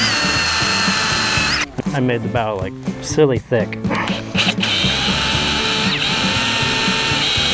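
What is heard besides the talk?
power drill drilling fiberglass boat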